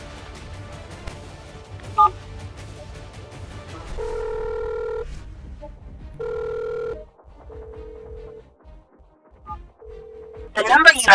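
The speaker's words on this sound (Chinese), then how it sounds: "拨电话，开免提。" A phone on speakerphone dials out, giving a series of long, even ringback tones with gaps between them, heard over low background tones and talk at the start, ending in a sharp burst.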